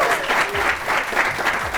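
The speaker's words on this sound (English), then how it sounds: "One more round of applause for Jasjot." An audience at a season-finale award presentation claps steadily in a dense, continuous round of applause, loud and close, with no break.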